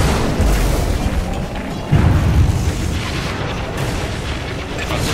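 A tower collapsing under attack in Dota 2: a steady low roar of booms and blasts, with one heavier crumbling impact near the middle, loud and close.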